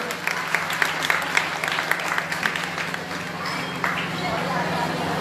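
An audience at a Srimad Bhagwatam religious discourse in Baghpat claps in scattered, uneven bursts over a low steady hum, with a voice briefly audible among the applause.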